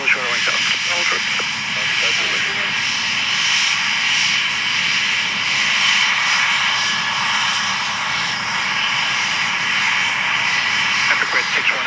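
A Cessna 525 business jet taking off, a loud sustained engine roar and whine holding steady throughout, heard from the airfield with a faint radio voice mixed in.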